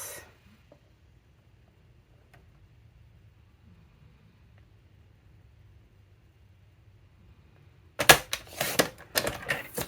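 Cardstock being cut to size with a trimmer while making a card folio: a quiet stretch, then a loud, close burst of sliding and cutting clatter near the end.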